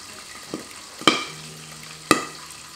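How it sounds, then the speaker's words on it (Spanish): Cancha corn toasting and frying in oil in a pan, with a soft, low sizzle broken by a few sharp, loud pops of kernels spaced about a second apart. Everything sounds close and there is no talk. "vamos a tostar también cancha o vamos a freírlo"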